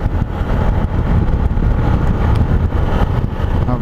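A Zontes 310X motorcycle fitted with a new 40-tooth rear sprocket is ridden at speed, its engine droning steadily under heavy, constant wind rush.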